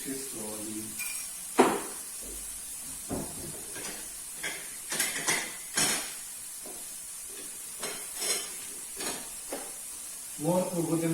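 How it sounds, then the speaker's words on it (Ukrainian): Intermittent sizzling and hissing from vegetables, including carrot, frying in oil in a pan, with soft bursts and clinks scattered across the stretch, no talking. "Не тушиться, смажиться."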